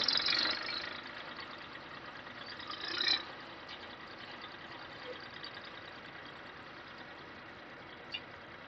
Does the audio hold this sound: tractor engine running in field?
yes